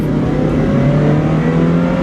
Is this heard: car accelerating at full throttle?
yes